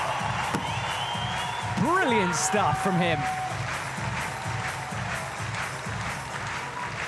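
A stadium crowd at a European Championships sport climbing final cheers loudly and steadily for the champion, a dense roar with whoops and whistles rising around a commentator talking over it.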